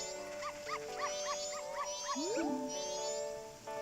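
Dogs in Zelda Majora's Mask 3D give a rapid series of short, yelping barks over a tonal game music background, repeated several times within a few seconds.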